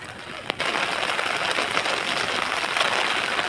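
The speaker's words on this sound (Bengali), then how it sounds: "আবার জোরে বৃষ্টি আসলো" Heavy rain falls outdoors on a waterlogged street, a steady dense hiss with a sharp tap near the start, loud and continuous with no talk.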